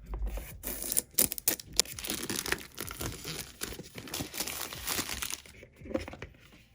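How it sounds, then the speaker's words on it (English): Plastic wrapping pulled off a glow-in-the-dark polygel nail kit box: close, continuous crinkling and tearing with sharp crackles, moderately loud, and no talking over it. "let's just get this out of the plastic"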